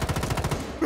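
Rapid automatic gunfire from Rainbow Six Siege, a fast burst of about eight close, loud shots in under a second.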